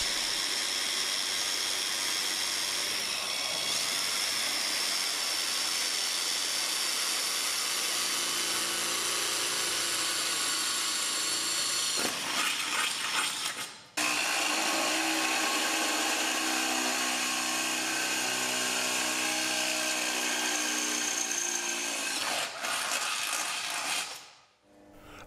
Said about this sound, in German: Auch hier wird das Loch erst einmal vorgebohrt.